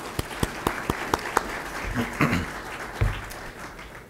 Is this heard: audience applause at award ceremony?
yes